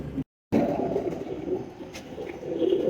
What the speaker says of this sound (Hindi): ये मेरा शहजादा है और फेवरेट कबूतर है